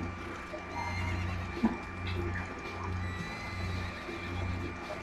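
A horse neighs in the LittleBigPlanet video game, one clear whinny over steady looping game music with a low pulsing beat, and faint hoof clip-clops running beneath.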